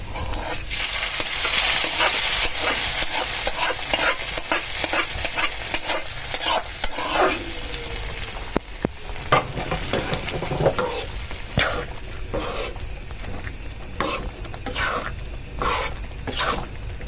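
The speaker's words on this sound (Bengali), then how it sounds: "এখন এই যে এখানে আবার এটাও ভেজে ফেলছে মাঝখানে, তো এটাই আর কি বাগার দিয়ে দিবে।" Onion and garlic sizzle steadily in hot oil for a wheat khichuri tempering, while a utensil scrapes and stirs the pan in repeated strokes, close and clear, with no voices.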